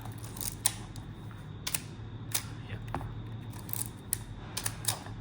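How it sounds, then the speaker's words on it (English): Repeated mechanical clicks from an Olympus OM-1 film camera shutter and controls, a handful of sharp close-up snaps and clacks over a quiet, steady background hum, with no talking. "If you release, then only if you release the shutter."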